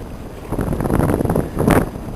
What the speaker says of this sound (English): There's a slight wind.